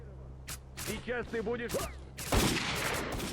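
Sniper rifle fire in S.T.A.L.K.E.R.: Call of Pripyat rings out as several sharp, close shots spread across a few seconds, with a person talking between the reports.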